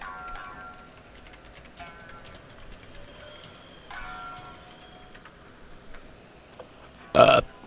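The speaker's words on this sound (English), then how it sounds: "Excuse me, guys. Burping." A player burps once, short and loud, right at the end, after a stretch of quiet game sound with faint chimes.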